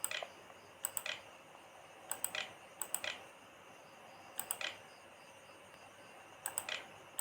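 Isolated presses of the up and down arrow keys on a computer keyboard, each a sharp click spaced irregularly, close up over a faint steady background hiss.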